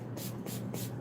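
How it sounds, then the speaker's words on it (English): A spray bottle mists water onto a 16 by 20 canvas in several quick, even hissing bursts, close and steady, with no talk. "We're going to go ahead and spray some water on here."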